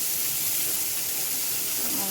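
Onions sizzle in hot oil in a pan where prawns are cooking for a Malabar spinach curry; a steady, even hiss runs close and unbroken throughout.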